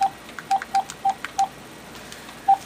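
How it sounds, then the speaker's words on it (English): A telephone is dialed from inside a house, giving a series of short, clear keypad tones in an uneven rhythm, with a pause before the last one. "I will dial it from the house and you will see"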